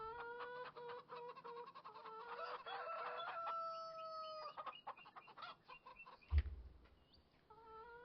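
Chickens cluck and squawk in a Farming Simulator 25 farm scene, several birds overlapping in a busy, continuous chatter with one sharp thump near the end.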